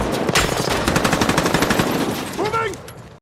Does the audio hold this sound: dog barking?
no